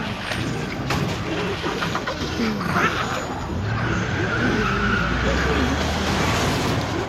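A truck in The Walking Dead game pulls away with a steady rumbling engine, a rising drone and a squeal of tires, while voices talk over it.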